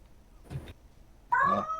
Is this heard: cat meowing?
yes